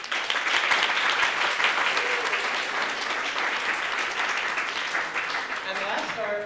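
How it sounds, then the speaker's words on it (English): Sustained audience applause fills a panel-event hall, dense and steady clapping from many hands that carries on throughout before starting to fade at the very end. "so a big round of applause to the committee,"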